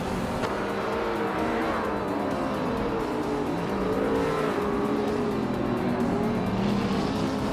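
Video game race cars, led by a 2012 Rougher GT8 supercar, at the Blackwood Rallycross Reverse track, a steady, dense engine drone from several cars with shifting revs and passing whooshes, no voices.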